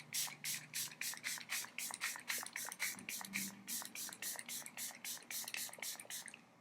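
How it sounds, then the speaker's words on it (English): A makeup setting spray bottle hisses in quick, regular pumps, more than a dozen short mists in steady rhythm, close and soft. "But I've really been enjoying this setting spray."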